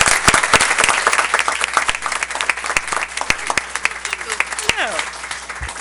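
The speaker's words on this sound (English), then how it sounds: "Let's give Nancy a round of applause as she makes her way to the podium" An audience at a school board meeting applauds an award recipient, a dense burst of many hands clapping that thins into scattered claps, loud and close, with some voices mixed in.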